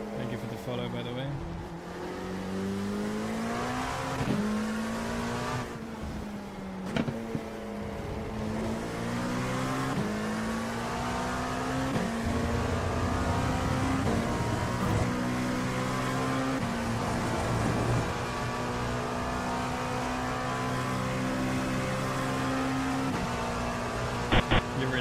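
Race car engine in the iRacing sim, a steady loud drone with shifting pitch as it accelerates and changes gears across the whole stretch, with a person talking over it.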